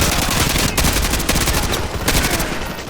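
Dense, continuous gunfire from Call of Duty: Modern Warfare 2 Campaign Remastered, loud rapid automatic shots and impacts piling over one another with no gaps for the whole stretch.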